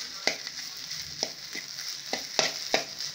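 Ground onion, ginger and garlic paste with curry leaves and coriander sautéing in a pan, a steady soft sizzle punctuated by several sharp scraping clicks from stirring.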